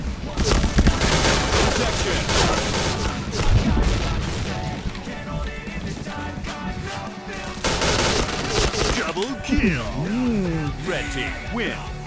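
Rapid automatic HK416 rifle fire in the online shooter Point Blank, dense loud bursts with explosions mixed in, heard under almost constant talking from a player.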